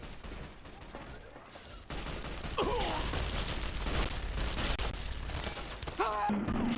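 Gunfire in the Fallout video game during the Battle of Hoover Dam: dense, noisy battle volleys with scattered sharp shots and mechanical clatter, loud and continuous, with brief tonal game effects near the end.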